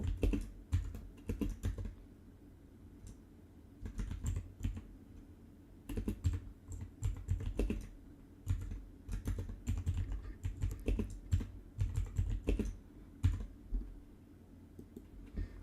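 Typing on a computer keyboard while writing a prompt, with irregular bursts of close, crisp key clicks separated by short pauses, no voices.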